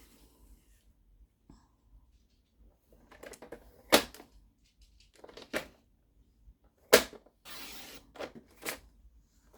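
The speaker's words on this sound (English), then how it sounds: "So I'm going to cut across here." Paper trimmer cutting vignette paper for cards: sparse, quiet clicks and sharp snaps with a brief sliding rasp near the end, close-up in a quiet room.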